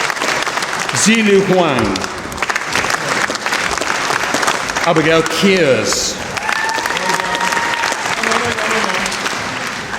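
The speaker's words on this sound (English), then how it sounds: "You have to keep the clapping going" Steady audience applause fills a university graduation ceremony for the Faculty of Art, Design and Media, continuous clapping from a large crowd while a voice reads out names over it.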